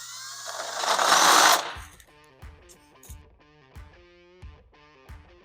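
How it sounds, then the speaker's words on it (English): A drill with a larger bit widens and tapers a hole during a Cherokee XJ transfer case slip-yoke-eliminator install, a loud grinding burst followed by a series of rhythmic ringing metallic taps and clanks. "We're just gonna come in with a larger drill bit now and put a little bit of a taper on the hole"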